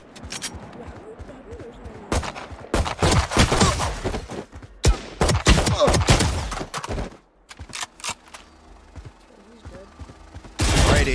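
Gunfire at practice bots in the video game VALORANT, bursts of sharp shots in clusters with brief pauses, loud and close, a final burst at the end; a voice talks over parts of it.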